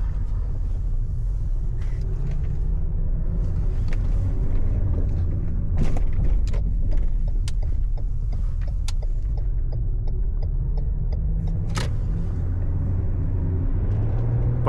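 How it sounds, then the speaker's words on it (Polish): A Lexus ES350 sedan with a 3.5-litre V6 pulls away gently, its low engine rumble steady and smooth under faint cabin noise, with a few soft clicks and no voices. "Pojazd bardzo subtelnie i z gracją przyspiesza."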